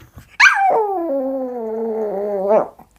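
A voice imitates a ghost howling, one sustained, wavering, tonal howl rising sharply at the start and lifting again at the end, close and loud with no other sound.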